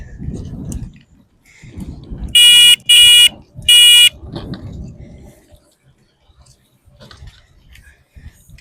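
A handheld air horn near water sounds three loud, long blasts in quick succession, with voices and background noise before and after.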